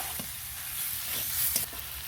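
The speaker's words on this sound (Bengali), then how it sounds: "মাংসগুলো একটু ভেজে নেবো" Chicken pieces frying in a pan, a steady close sizzle with a few scraping stirs of a spatula, no voices.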